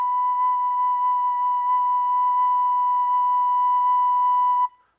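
Recorder sounding a single steady note, clear and pure with a few faint overtones, held evenly for about four and a half seconds before stopping abruptly.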